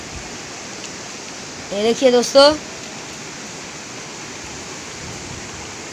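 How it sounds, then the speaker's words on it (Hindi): Fast-flowing river water rushing at a waterfall, a constant close hiss of water that runs throughout, with someone briefly speaking over it. "देख सकते हैं एक झरना है, कितना तेज़ी से पानी जा रहा है।"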